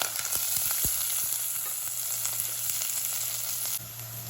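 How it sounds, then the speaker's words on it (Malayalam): Sliced onion and curry leaves sizzle in hot oil for a nenthrakaya mezhukkupuratti, with a continuous loud frying hiss and a few light stirring scrapes, close up and without voices. "എടുത്തു വച്ചിരുന്ന സവാളയും കരിവേപ്പിലയും ഇട്ട് കൊടുക്കാം."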